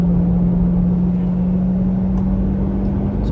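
A 2024 Corvette E-Ray on a race track, accelerating hard out of a corner onto the straight: a loud, steady engine drone holds at a constant pitch for several seconds under heavy in-car rumble, with no talk.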